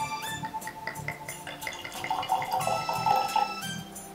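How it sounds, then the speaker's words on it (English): Whisky pours steadily into a glass with a trickling, splashing sound, close by and moderately loud, with no talking. "Let's pour a little."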